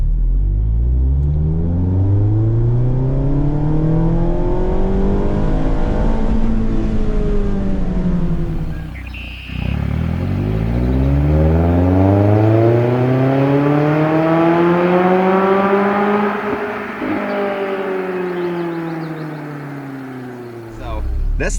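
A Mazda ND Miata fitted with a Roadster Sport Race exhaust pulls hard from 1,000 RPM, its engine note climbing through the gears in two long rising sweeps with a brief dip at a shift, loud and close throughout.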